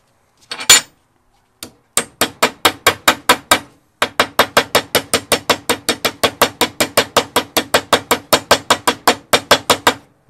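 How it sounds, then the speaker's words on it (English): A few scattered metallic taps, then a long run of steady, rhythmic hammer strikes driving a bearing race into a Coleman Versa trailer, close and sharp, without talking. "Now, don't keep hammering this in because you get it stuck that way."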